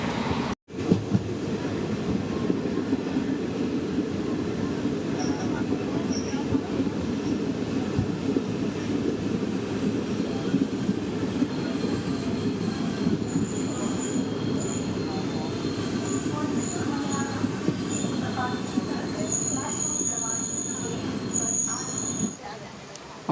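The Coimbatore–Mangaluru Central Intercity superfast train rumbles steadily along the rails, heard from inside with a constant low roar, occasional faint wheel squeals and a sharp knock near the start.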